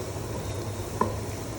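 Banana blossom frying with garlic and green chili gives a low, continuous sizzle with a couple of small ticks of a utensil, quiet and close.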